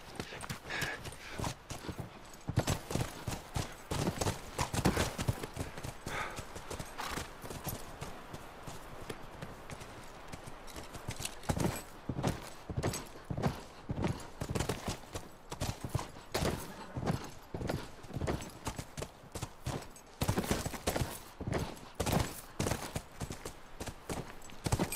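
Horse hooves clip-clop in The Last of Us on PS5, a steady gait of rhythmic, close-miked hoofbeats that surge and ease in pace, with an occasional snort and no talking.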